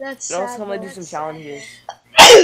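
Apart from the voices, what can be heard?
sneeze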